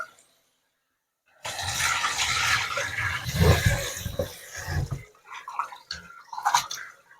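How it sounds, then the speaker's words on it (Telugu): Raw chicken pieces washed by hand in water in a home kitchen: splashing and sloshing begins after a second of silence, then continues in uneven wet bursts close by, with no talking. "చూడండి, చికెన్ పీసెస్ని ఇలా బాగా వాష్ చేయాలండి."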